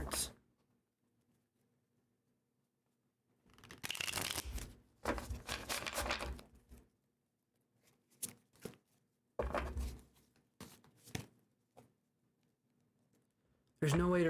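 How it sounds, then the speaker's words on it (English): Tarot cards shuffled by hand in two longer riffling bursts followed by shorter scattered snaps and taps, with near-silent gaps between them. "let's shuffle these cards"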